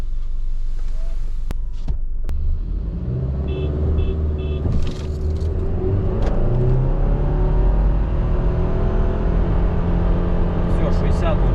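A Subaru Forester turbo engine revving steadily during a two-pedal launch, a loud close rumble that rises in pitch, with people talking inside the car over it.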